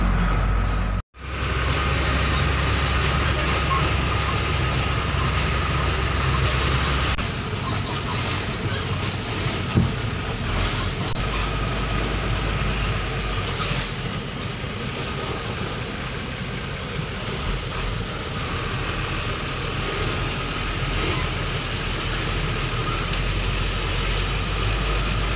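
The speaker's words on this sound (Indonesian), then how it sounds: "unit bergerak dengan stabil tanpa ada hentakan dan suara mesin halus" A heavy equipment unit moves steadily up a slope, its engine a smooth, continuous low drone with no jolts, holding near and fairly loud for the whole stretch after a brief dropout at the start.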